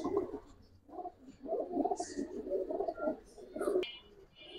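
Pigeons at a pigeon market give soft, murmuring coos at close range, fairly quiet, with chatter and small clicks around them.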